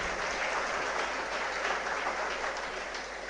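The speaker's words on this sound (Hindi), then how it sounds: "एक बार जोरदार तालियां बलदेव सर के लिए।" An audience at a motivational seminar for rural students gives a guest a round of applause, a steady, fairly loud wash of many hands clapping that carries evenly throughout and eases off slightly at the end.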